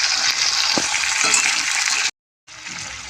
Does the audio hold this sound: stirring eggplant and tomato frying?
yes